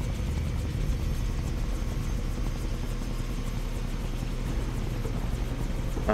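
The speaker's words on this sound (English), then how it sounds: "Can't let them put Ollie in the chopper." A helicopter in the video game Far Cry 3 keeps up a steady, loud rotor thrum with a dense low rumble that continues unbroken through the whole stretch.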